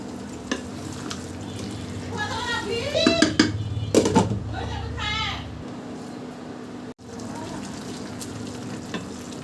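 One kilogram of beef goes into fried spices in a pot, with a steady close sizzle and clattering stirring strokes that swell in the middle, while someone talks over it.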